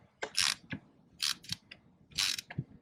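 An old screw is twisted into a plastic LED side marker light for a Dodge Charger to cut threads, giving a series of close, sharp scratchy creaks and clicks in three uneven bursts.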